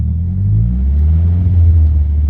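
An SR20-swapped Nissan S14 engine revs up to about 2,500 rpm from idle, a loud, steady low rumble that climbs gradually in pitch, heard close up with no talk.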